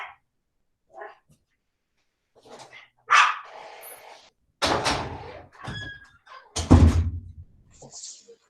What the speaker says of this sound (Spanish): mis perras están ladrando mucho